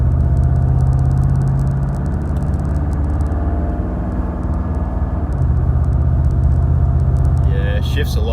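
A Chevrolet Camaro with a 6L80e automatic transmission drives along with a steady engine rumble and road noise, the engine note dropping as it shifts gears, while a person talks over it.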